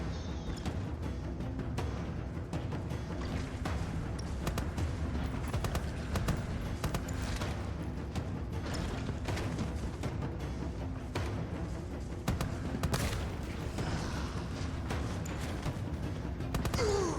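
Gunfire in the survival horror game Resident Evil 3, a sustained run of close, loud shots and mechanical clatter lasting the whole stretch, with dense broadband bursts over a steady low rumble and no talk.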